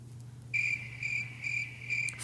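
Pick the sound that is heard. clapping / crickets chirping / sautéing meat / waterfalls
crickets chirping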